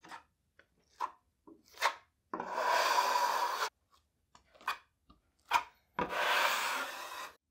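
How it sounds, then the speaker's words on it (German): Knauf Uniflot joint compound spread into drywall joints and scraped off sharply, short gritty scrapes alternating with two longer, loud dragging strokes of the trowel, close and with no talking. "zuerst einmal gebe ich die Spachtelmasse jetzt in meine Fugen rein und ziehe das Ganze dann auch relativ scharf ab"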